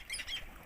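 Seabirds crowd a bare rock in the middle of the sea, giving brief, faint, distant squawks.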